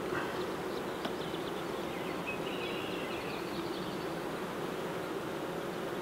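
Honey bees drone inside an open hive as they build out wax comb, a dense continuous buzz of many insects heard up close and steady throughout, with no talk over it.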